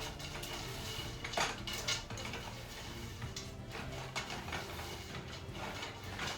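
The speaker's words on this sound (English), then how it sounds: "So now we simply toss in that pile of cereal, give it a nice stir" Rice Krispies cereal being stirred into a browned butter mixture for almond cereal treats, a soft, continuous crunchy rustle with light clinks of utensil against the pot, close and quiet, with no voices.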